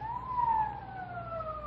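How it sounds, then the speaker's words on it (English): A police car siren from an old radio drama wails with a slowly falling tone, a single sustained sweep at moderate loudness with no voices over it. "Police siren."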